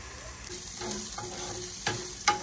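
Sliced onions, crumbled by hand, fry in oil until crisp, giving a soft, continuous sizzle with a couple of sharper stirring clicks near the end.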